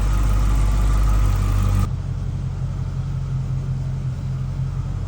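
A Dodge HEMI V8 warms up at idle, first loud and broadband, then settling into a quieter, steady low rumble with an even droning tone.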